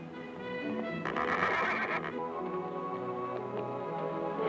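A mare that leads wild horses whinnies loudly and shakily, then gives softer snorting neighs, with faint hoof clopping in the background.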